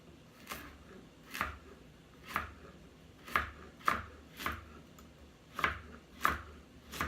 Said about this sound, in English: You can chop them up thick or as thin as you like.